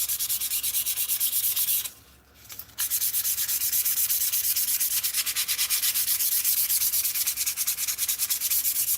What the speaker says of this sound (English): We're just gonna see how far we can work through the surface rust.